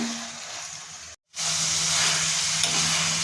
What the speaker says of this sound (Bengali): এরপর আমি দিয়ে দেবো চিকেন। মশলা ভালো করে মিশিয়ে নেব চিকেনের সঙ্গে।